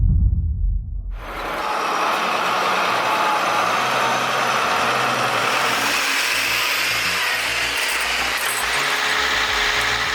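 A Belarus 122 1.2 tractor engine runs in a snowy winter forest during logging work, a steady loud mechanical drone with clanking and rattling after a sudden start, no voices.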